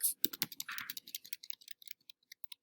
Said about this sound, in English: I guess I could just type it at the bottom.